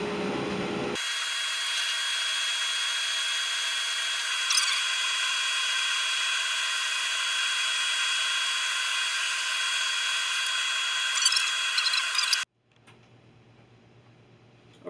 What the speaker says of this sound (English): I should be able to get that bump out with sandpaper.